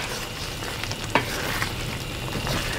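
Sautéed bottle gourd with sardines sizzles steadily in a pan as a utensil stirs it, with a sharp scrape near the middle and a continuous frying hiss throughout, with no talking.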